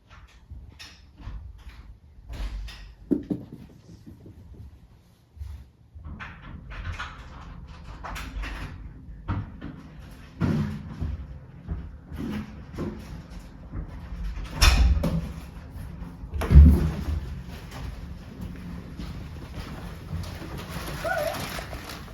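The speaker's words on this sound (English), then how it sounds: "I open my keys, I open the door with my key, and Doris is at the top of the stairs" Keys rattle in a front door lock, then the door unlocks and swings open, giving scattered clicks and a couple of sharper knocks and thuds in a quiet indoor space.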